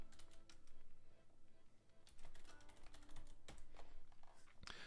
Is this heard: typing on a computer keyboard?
yes